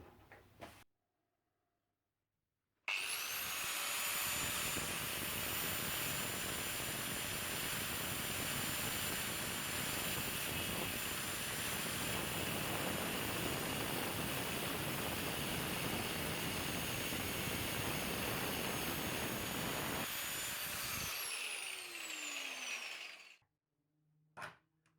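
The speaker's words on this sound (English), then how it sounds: "I'm going to be using my angle grinder to grind that piece off" An angle grinder grinding a piece off turned wood on a lathe, a loud, steady high-pitched whine with rough abrasive grinding that runs for about eighteen seconds, then spins down, with brief quiet before and after.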